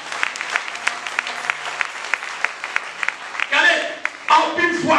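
In a church service, sharp claps ring out in a steady, evenly spaced rhythm, fairly close and distinct, then louder voices surge in over the clapping toward the end.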